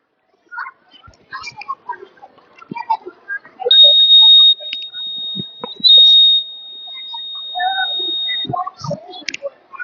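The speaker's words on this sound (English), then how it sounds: "the sensor detects the change and make a buzzer sound" A security sensor buzzer at a school robotics expo sounds a steady high electronic tone for a few seconds, breaks briefly, then continues, amid scattered clicks, rustles and quiet voices.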